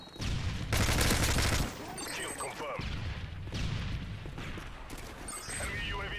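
Gunfire in the video game Call of Duty Modern Warfare 3: a loud burst of shots up front, then continuous game combat noise with more scattered firing, while players talk over it.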